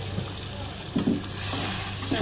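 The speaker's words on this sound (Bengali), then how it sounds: "আস্তে আস্তে কষিয়ে নিচ্ছি" Katla fish heads sautéing in a pan, a steady loud sizzle and crackle of frying with a few scraping stirs of the spatula, running continuously without any talk.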